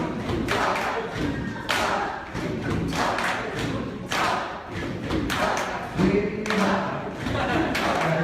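An audience at a rhythm talk thumps out a group drumming pattern together, with repeated loud beats in a steady rhythm and a crowd murmur underneath.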